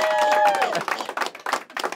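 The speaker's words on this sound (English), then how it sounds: "please keep that round of applause going for our special guest" An audience applauds special guest John Werner at a live TV episode, with a brief tonal sound at the start before the clapping continues in uneven, surging bursts at close range.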